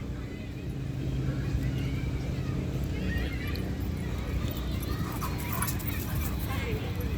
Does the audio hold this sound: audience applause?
no